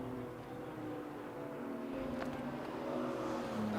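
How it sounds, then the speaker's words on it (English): A Mazda MX-5 race car at a club enduro at Rockingham enters the pit lane, its engine a steady, fairly faint drone that rises slightly in pitch toward the end. "In comes the 72 Mazda MX-5."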